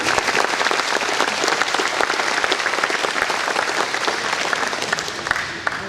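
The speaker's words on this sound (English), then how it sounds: "Let's give them all one big round of applause" A luncheon crowd at the Ag Aware 2024 event gives a big round of applause for the sponsors. The clapping is loud, dense and continuous, with crisp individual claps throughout, and it eases off slightly at the close.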